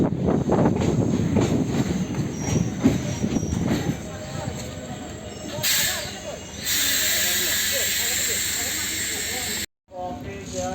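A DEMU passenger train pulls into a station with rumbling wheels and clatter, then a long sustained hiss of air, with people talking nearby.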